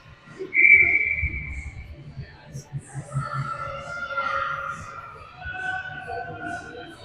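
A referee's whistle gives one sharp, brief blast at a women's ice hockey game in an arena, while a commentator keeps talking over crowd and rink noise.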